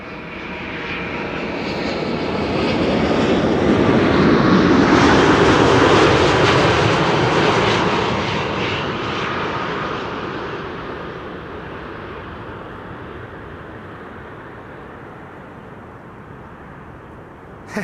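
An Air Europa jet airliner arriving from Madrid at Amsterdam Schiphol Airport roars in, building to a loud broadband rumble, then fades into a steady distant whine as it passes.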